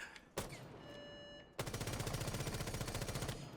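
Rapid automatic gunfire from Rainbow Six Siege: a short burst, then a pause with a ringing tail, then a sustained rattling burst of closely spaced shots lasting about two seconds, loud and with no talking.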